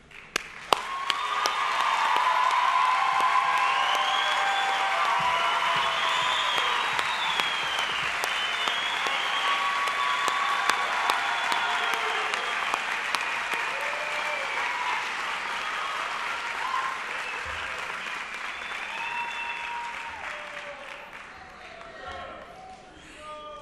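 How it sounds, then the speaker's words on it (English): A large crowd at a State College of Florida winter commencement applauds the new graduates. The dense, steady applause fills the hall for over twenty seconds and slowly thins toward the end, with scattered voices underneath. "I'm going to let them applaud you again"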